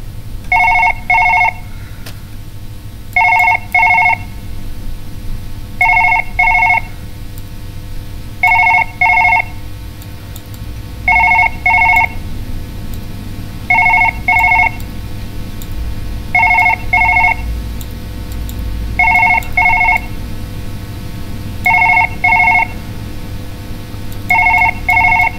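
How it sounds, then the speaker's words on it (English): A telephone bell rings in steady paired bursts, repeating about every two and a half seconds, loud and clear over a low hum with no talking. "No, shut up, phone."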